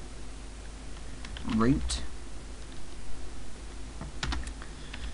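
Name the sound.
typing on a computer keyboard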